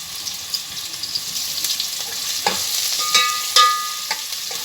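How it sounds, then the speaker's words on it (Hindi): Garlic-ginger paste frying in a pan with onions for an aloo keema, a steady sizzle with occasional stirring scrapes and clinks, close and moderately loud, no talking. "आधा मिनट इसको जो है फ्राई करेंगे ताकि इसका कच्चापन जो है वो ख़त्म हो जाए"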